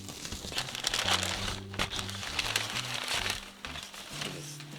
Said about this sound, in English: there's a lot of bubble wrap